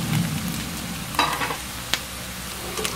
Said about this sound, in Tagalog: Then, hulog na natin tong tokwa.